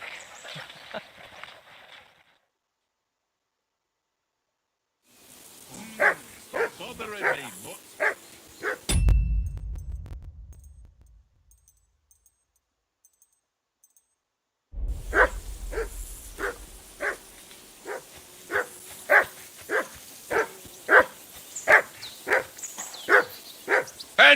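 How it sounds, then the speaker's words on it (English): A dog in the medieval video game Kingdom Come: Deliverance 2 barks in a rapid run of sharp, evenly spaced yaps, loud and close, with brief character voices and short gaps of silence between the bursts. "Hey, call that dog to heel."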